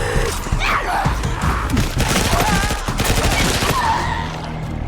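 Rapid bursts of gunfire from guns in the video game Dying Light: The Beast, loud and close, with fast repeated shots running almost continuously and some barking-like creature noises mixed in.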